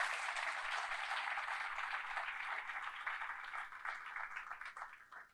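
A church congregation applauding and cheering for Jesus, a dense, steady wash of clapping and voices that holds loud for several seconds before slowly thinning out.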